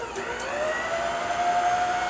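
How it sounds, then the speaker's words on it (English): A stand mixer runs on its fold setting, blending butter and cocoa powder with a steady close motor whine and a faint rising pitched hum, no talking. "let me stir this real quick in the mixer. Just going to use the fold function real quick."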